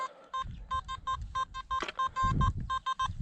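A series of short, rapid electronic beeps from a metal detector on a beach, repeating in quick pulses, fairly loud and close, over a low rustling background.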